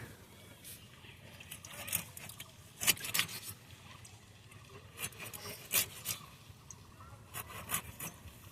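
A blade cuts cleaned taki fish into round pieces with faint, irregular scraping and rasping strokes in short clusters. Sharp bright scrapes are separated by brief quiet pauses.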